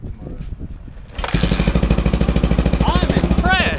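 A red motorcycle with a sticking throttle starts up after a quiet moment with low talk, then runs loudly close by with a fast, even pulsing beat and rising whines as it is revved.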